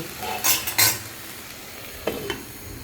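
A vegetable curry with pabda fish, potato and ridge gourd being stirred in a pan, a few close scraping and clinking strokes of a spoon against metal over a quiet low simmer.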